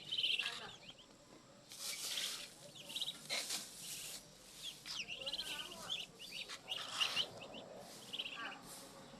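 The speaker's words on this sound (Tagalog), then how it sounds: "magpapatuan na tayo ng ating mga kalapate" Pigeons chirp and call in short bursts over a busy, noisy background, with several overlapping calls from nearby.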